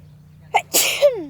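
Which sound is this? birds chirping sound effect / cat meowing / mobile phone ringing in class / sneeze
sneeze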